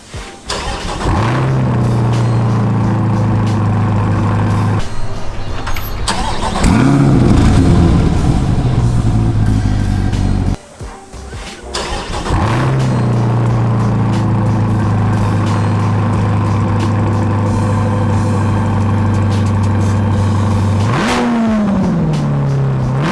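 A C8 Corvette with a center exit exhaust revs up loudly several times, the exhaust rumbling deep between throttle blips and settling back to a steady idle, with a brief drop in the middle.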